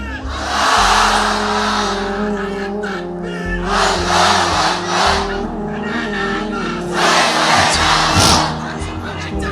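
A crowd at an Islamic religious gathering shouts the takbir chant in unison, in loud, sustained waves that rise and fall several times over about ten seconds.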